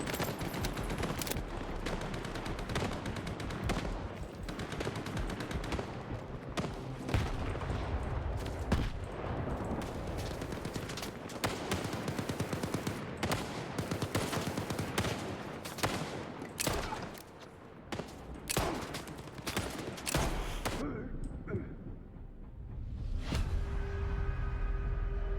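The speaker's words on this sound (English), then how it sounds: "That guy survived a headshot from the pistol." Near-constant gunfire in S.T.A.L.K.E.R. 2: Heart of Chornobyl, including pistol shots, a dense run of loud cracks and bursts for about twenty seconds, then a few sparser shots over a quieter background.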